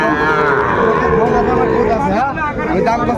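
Sahiwal cattle at a livestock market in Kushtia, a loud drawn-out moo rising and falling over crowd chatter and close talking.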